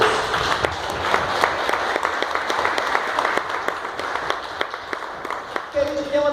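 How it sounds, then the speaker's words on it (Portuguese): Light, scattered applause from a Catholic prayer group after a Gospel reading, with individual claps standing out over a soft wash. A voice begins speaking toward the end. "Vamos aplaudir a palavra de Deus?"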